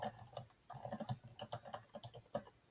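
Quick bursts of clicky keystrokes on a computer keyboard, close and fairly quiet, irregular rhythm with short pauses between words.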